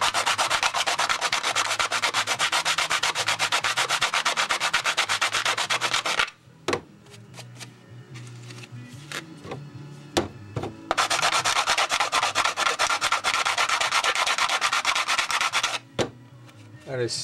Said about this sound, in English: best thing I know of is the carbide block, and I need to get right into this corner